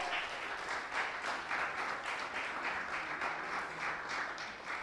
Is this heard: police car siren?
no